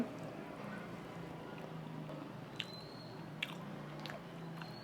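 Someone chewing and biting into Kerala-style fried fish with chapati, producing soft, squishy mouth sounds close up over a steady low background hum, with a few brief sharp clicks, no talking.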